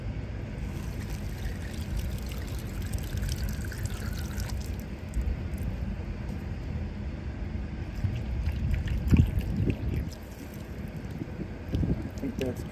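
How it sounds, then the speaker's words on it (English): Water flushes through a clogged HVAC condensate drain line, a low, steady rushing and trickling that runs throughout at a moderate level, with some wind-like noise on the microphone. "I'm gonna flush that out a little bit more."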